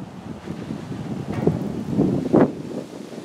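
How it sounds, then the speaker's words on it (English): Wind gusting outdoors, buffeting the microphone as a steady low rumble with rising surges near the end, no talking. "And here comes the wind."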